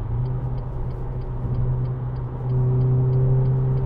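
2010 Renault Clio 2.0 VVT Renaultsport three-door engine heard from inside the cabin as it changes down a gear, a steady low drone whose revs step up and grow louder partway through, with a faint regular ticking above.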